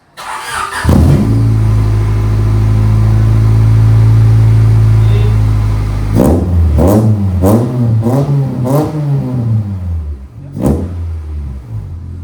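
A Honda car is started and its engine revs loudly through an aftermarket exhaust, with a long sustained rev and then a run of sharp blips, up close, while people talk.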